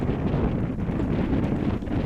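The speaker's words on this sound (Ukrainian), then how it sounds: "Цей же ж клятий західний вітер сильний" Steady, heavy west wind buffeting the microphone, a continuous low roaring rush with no pauses.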